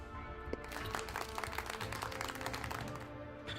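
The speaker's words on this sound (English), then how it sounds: "A round of applause filled the room" A round of applause filling a room in an otome video game, heard as a steady wash of many hands clapping, faint and continuous throughout.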